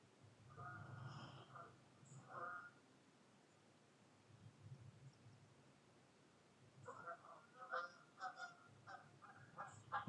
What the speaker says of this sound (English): And I got geese flying overhead.